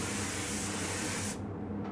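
Conventional paint spray gun atomizing thin material, a loud steady hiss of air and spray that runs continuously before cutting off sharply near the end, leaving a quieter residual airflow.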